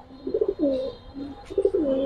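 A pair of Giribaz pigeons, the males in breeding condition, coo close by in two deep, throaty bursts, each a rolling series of rising and falling notes, with no talking.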